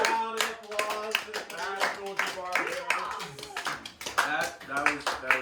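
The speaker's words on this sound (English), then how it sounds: "Round of applause for Emma." Close, uneven hand clapping from a small group at a school Christmas talent show, mixed with cheerful voices and talking over the claps.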